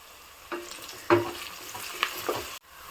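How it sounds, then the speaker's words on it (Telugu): Sliced onions fry with salt in a pan for a Hyderabad-style mutton curry, giving a soft sizzle broken by a few stirring scrapes and clinks, quiet and close. "మనం సాల్ట్ వేసుకోవడం వల్ల మనకి ఆనియన్స్ ఫాస్ట్గా ఫ్రై అవుతాయి"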